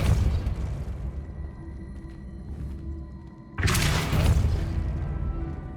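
Depulso spell cast in Hogwarts Legacy, heard as a sudden loud burst with a bright crackling impact that cuts in partway through over a steady low rumble.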